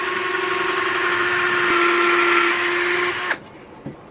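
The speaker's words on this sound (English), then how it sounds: "I'm gonna drill a countersink hole so it'll fit nice and flush." A power drill cuts a countersink hole in a wooden coop door frame, a steady close whirring whine for about three seconds before it cuts off, followed by a small clunk.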